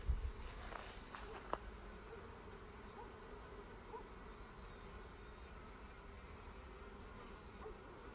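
A steady, low insect buzz fills the air throughout, like many bees droning close by, with a few brief louder knocks near the start.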